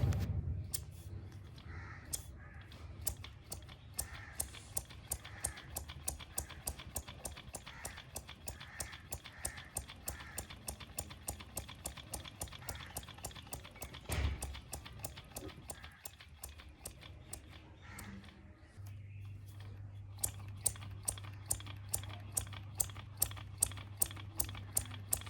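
A homemade compressed-air engine runs after a valve-timing adjustment, making a rapid, even train of sharp clicks and taps over a low hum. It pauses briefly midway, then resumes.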